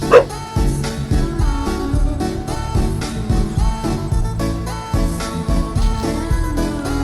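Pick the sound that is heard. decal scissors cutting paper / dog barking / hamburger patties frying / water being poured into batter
dog barking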